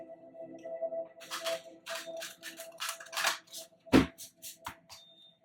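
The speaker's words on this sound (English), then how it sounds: "All right, one last shuffle." A run of quick papery riffles and flutters, several short bursts of tarot cards being shuffled close by, ending with a sharper tap.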